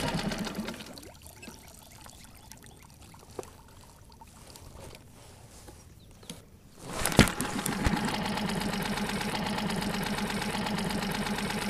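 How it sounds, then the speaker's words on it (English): A Mercury/Tohatsu 4-stroke outboard motor (4/5/6 HP) is pull-started after several quiet seconds, then catches and settles into a steady, loud, continuous idle drone with a trickling water sound. "So now you're ready to pull the pull start here to start the motor."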